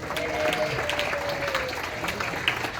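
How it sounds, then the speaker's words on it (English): Scattered applause rises from an audience at an anniversary gala party at Temple Shalom Emeth, moderately quiet clapping from a crowd with a faint murmur and a voice faintly heard underneath. "let's all give them a round of applause"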